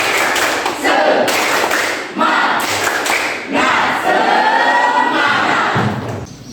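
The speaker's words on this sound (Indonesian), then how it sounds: "Tepuk semangat." A class of students doing a rhythmic spirit clap, loud group claps in patterned bursts with brief pauses between phrases, mixed with chanted voices from the crowd.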